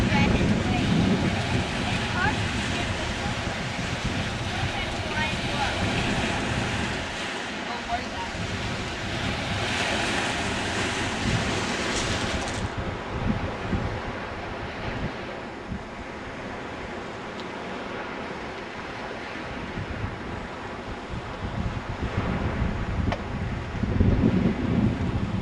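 Waves break continuously on the Lake Superior shore at Whitefish Point, Michigan, with steady surf and buffeting wind noise across the microphone filling the scene, no voices present.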